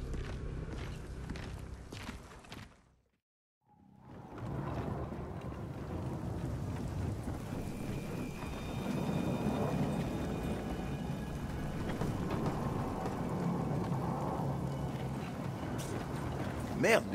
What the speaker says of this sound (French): les rafales en mettent un coup à ce barrage